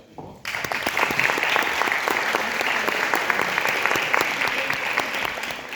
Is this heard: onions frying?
no